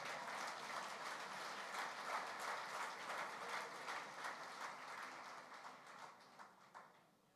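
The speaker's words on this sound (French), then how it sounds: "Oui, ça vaut le coup d'applaudir." Church congregation applauds in a steady, full wash of clapping that carries evenly for several seconds, then thins and fades toward the end.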